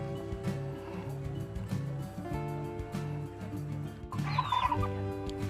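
Native chickens in a rural yard cluck continuously at close range, overlapping calls forming a busy, steady chatter that grows livelier near the end.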